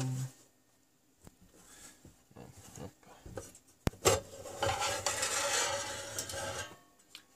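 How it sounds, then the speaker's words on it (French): The metal cover of a 5.25-inch SCSI drive enclosure, its four screws removed, slides off with a sharp click and then a couple of seconds of scraping and rasping, close and moderately loud after quieter handling noises. "4 vis et hop, on fait ensuite glisser le couvercle"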